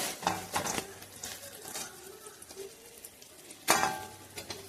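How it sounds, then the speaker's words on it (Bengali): Vegetable bhaji and bora fritters fry in hot oil with a soft sizzle, broken by scattered clinks and scrapes of a utensil stirring in the pan, plus one sharper clatter near the end. "আমাদের ভাজি হয়ে আসছে, আমাদের ফ্রাইগুলো হয়ে আসছে, এখন নামানো হয়ে যাবে।"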